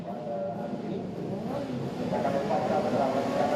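A pack of twelve SS600 race motorcycles gets a flying start at Sepang International Circuit, a steady engine drone that swells slightly louder toward the end under a noisy broadcast mix.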